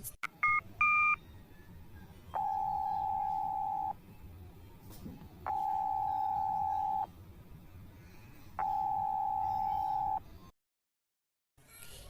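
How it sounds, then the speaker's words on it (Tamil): A phone call is dialled with a few quick keypad tones. Three long, even ringing tones follow with gaps between them, and the call goes unanswered before the line cuts to silence. "இந்த மனுஷன் எடுக்கலக்கா ரிங்கிங் போகுது"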